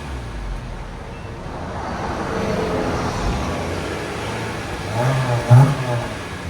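A 2024 Honda Civic Sport with a 2.0L engine and straight-pipe exhaust revs in short bursts held back by the rev limiter. The engine note is steady and moderately loud, rising once briefly near the end, with no talking.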